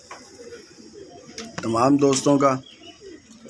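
Pigeons coo softly in their rooftop coop, a low murmuring burr that continues behind a voice speaking over it in the middle of the scene.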